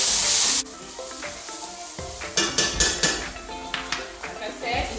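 Red cabbage cooks in a hot pan on an electric stove, a loud burst of sizzle at the start giving way to quieter frying under clanks and scrapes of a utensil against the pan.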